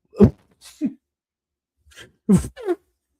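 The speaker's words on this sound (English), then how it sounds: "I'm just sneezing" Two quick sneezes, each a sharp burst followed by a breathy release, separated by a short silence.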